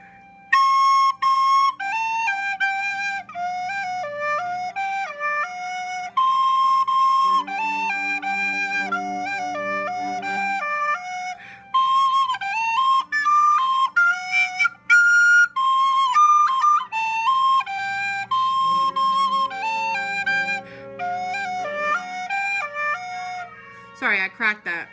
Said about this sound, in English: So this whole section sounds like this.